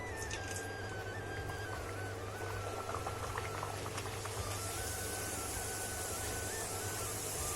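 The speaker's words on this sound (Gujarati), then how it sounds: "આપણું તેલ આવી ગયું છે હવે આપણે પૂરી નાખીશું" Puris drop into hot oil for a traditional Gujarati ras puri and fry with a continuous dense sizzle and bubbling, steady and close throughout, with no talking.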